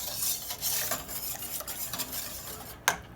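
A whisk stirs cream of tomato soup in a pot, making soft, rapid scraping and sloshing strokes, fairly quiet and close, ending with a sharper clink of metal.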